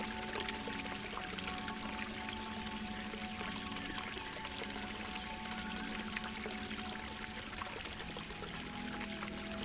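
In a calm meditation soundscape set in Rivendell, water pours steadily into cupped hands. The quiet, continuous liquid pouring sits over a soft ambient drone with faint tonal hums and no voices.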